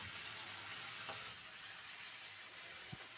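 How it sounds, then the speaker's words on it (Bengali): Spices with chopped tomato and ginger-garlic paste fry in a pan with a steady, dense sizzle and an occasional faint scrape of stirring. "নেড়ে চেড়ে মশলাটা একটু কষিয়ে নেব।"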